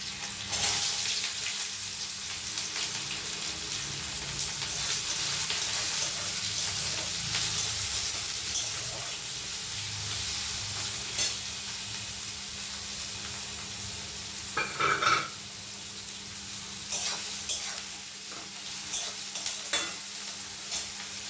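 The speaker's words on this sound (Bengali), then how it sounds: "পেঁয়াজটাকে কড়াইতে দিয়ে দেব" Chopped onion frying in a wok for egg tadka, a steady broad sizzle running the whole time with occasional scraping stirs and a few brief clatters near the end, close and moderately loud.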